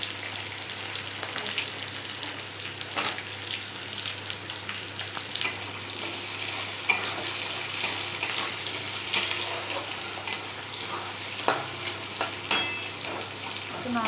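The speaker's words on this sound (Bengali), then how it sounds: "এবার আমি এর মধ্যে দিয়ে দেবো পেঁয়াজ কুচিগুলো" Chopped onion hits hot oil already browning minced ginger and garlic, raising a steady, dense sizzle with scattered crackles and pops, close and continuous with occasional stirring scrapes and no talking.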